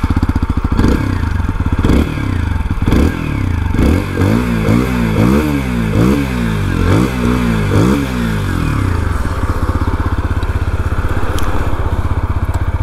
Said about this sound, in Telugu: సో బైక్ ఎగ్జాస్ట్ నోట్ అయితే ఈ విధంగా ఉంటుంది